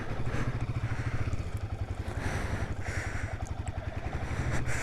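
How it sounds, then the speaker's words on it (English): A Royal Enfield Himalayan 450 motorcycle creeps along in first gear on the clutch alone, with a steady, close engine thrum and a throbbing low pulse under rushing wind noise. "it's pulling me along quite nicely there, just in first, just clutch only"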